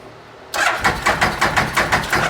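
A Bennche Spire 800 engine cranks on the starter after the key is turned. Loud, close, rhythmic chugging pulses repeat evenly for about two seconds without the engine catching.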